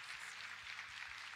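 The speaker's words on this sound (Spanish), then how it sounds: "Vamos, celébrelo con este aplauso." A church congregation applauds in a steady, even patter of many hands, fairly faint and sustained throughout without a clear peak.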